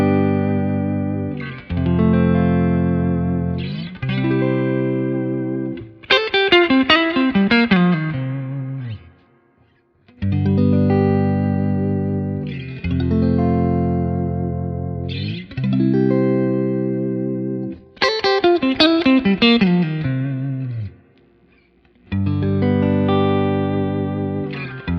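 Fender Stratocaster played through a Fender Hot Rod Deluxe IV amplifier, ringing chords and arpeggiated note runs in repeated phrases with short pauses, moderately loud with some effects and reverb, no talking.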